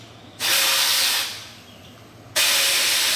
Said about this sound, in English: So I got my air nozzle.